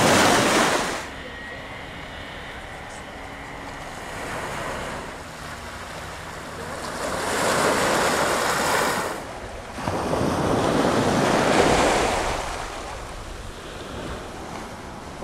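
Broad rushing Mediterranean surf on a Costa del Sol beach at Estepona swells and recedes in slow waves, with steady wind noise over the microphone and no voices.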